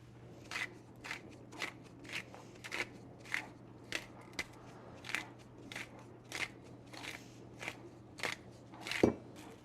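Sourdough dough being mixed with added salt and flour and kneaded by hand, heard as regular soft crackly squelches and slaps about every half second over a low steady hum, close and quiet, no talking.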